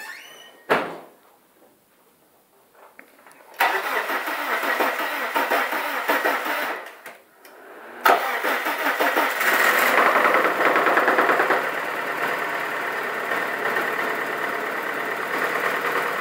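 An overhauled 1999 Mitsubishi Eclipse engine cranks and catches after a door thud, dies back, then fires again and settles into a loud, steady idle with a rough, slightly knocking edge.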